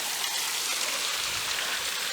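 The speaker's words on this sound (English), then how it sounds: "And here's the waterfall that's near the tunnel." Small waterfall beside the Kennerdell Tunnel on the Allegheny River Trail, running weakly after rain, gives a steady broadband wash of falling water, close and even throughout with no voices.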